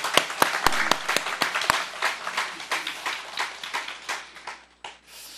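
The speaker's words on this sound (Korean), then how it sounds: "모든 분들께 감사의 박수를" A church gathering claps in thanks, opening with a few sharp, distinct claps that swell into steady rhythmic applause and then thin out and stop.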